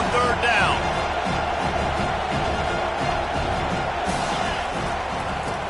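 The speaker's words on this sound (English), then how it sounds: "Decibels rising as the crowd gets behind this defense on third down." A stadium crowd in College Football 25 roars steadily and loudly throughout on third down, a broad continuous wall of cheering with a game commentator's voice running over it.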